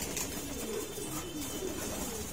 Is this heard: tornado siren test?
no